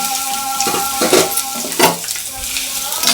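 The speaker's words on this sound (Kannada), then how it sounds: "ಇದನ್ನು ಸ್ವಲ್ಪ ಚೆನ್ನಾಗಿ ಫ್ರೈ ಮಾಡ್ಕೊಬೇಕು" Chopped onion and garlic sizzle in about three tablespoons of hot oil in a pan, with scraping stirs and light clinks of a spoon against metal over a steady frying hiss, close and fairly loud.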